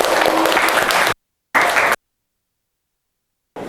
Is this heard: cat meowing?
no